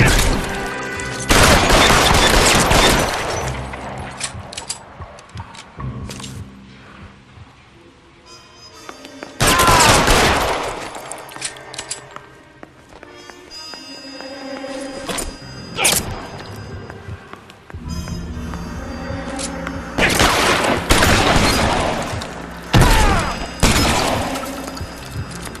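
Heavy gunfire from the L.A. Noire video game erupts in loud, dense bursts of shots and impacts, with quieter gaps between the volleys and crashes.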